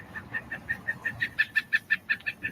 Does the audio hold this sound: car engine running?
no